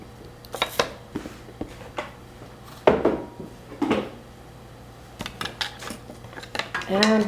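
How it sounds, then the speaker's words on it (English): A whisk clinks and scrapes against a bowl while mixing dry soup mix with milk powder, producing irregular clattering taps and short bursts at close range, with no talking. "And we will whisk this around."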